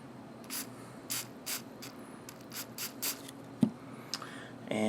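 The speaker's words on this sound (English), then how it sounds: "Spray some on a Q-tip." Short soft hissing spray bursts of cleaner onto a cotton swab while cleaning a Smith revolver repeat at irregular intervals, quiet and close, with a few small clicks and a brief scrape near the end.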